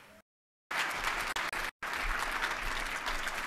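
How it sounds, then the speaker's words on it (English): An awards ceremony audience applauds the servers, with loud, dense clapping from a full room, cut by two brief silent dropouts before it carries on steadily. "I just want everybody to put their hands together for the folks that served us tonight"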